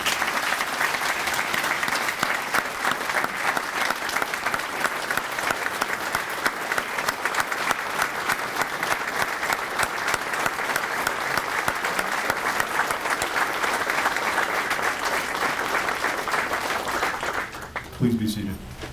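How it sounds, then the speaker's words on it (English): A large audience at a military retirement ceremony applauds retirees, a long, steady, dense burst of clapping that holds evenly at full strength before tapering off abruptly near the end. "Please join me in a round of applause for all the retirees on a job well done."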